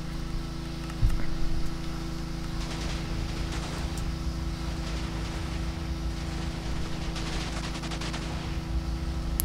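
Cannon fire in a video game shows up as a few rapid, muffled bursts over a constant engine-like drone and in-game background noise, with no one speaking.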